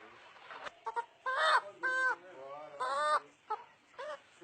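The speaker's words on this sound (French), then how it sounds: "Puis direction le poulailler." Hens clucking inside a henhouse on a small poultry farm, a close series of rising, drawn-out clucks and short calls in quick succession, fairly loud with brief pauses between.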